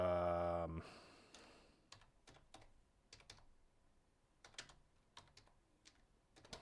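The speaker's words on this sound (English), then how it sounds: "They're doing the old one-handed typing here." One-handed typing on a computer keyboard at a home studio desk: a fading tone gives way to sparse, irregular key clicks, close and fairly quiet, with short pauses between keystrokes.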